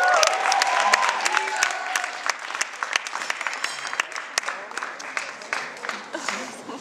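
An audience claps loudly at first, then the applause thins out into scattered individual claps, with voices calling out underneath.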